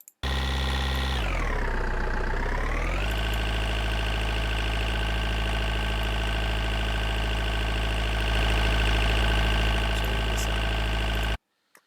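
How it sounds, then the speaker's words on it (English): A tank engine idles steadily, a dense low rumble with rich harmonics that dips in pitch briefly early on, then holds an even, continuous drone until it cuts off abruptly. "Now let's choose the engine idle and add it."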